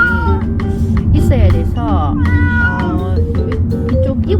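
Several cat meows, rising and falling, sound close by over a low background hum, with a few repeated cries spread across the clip.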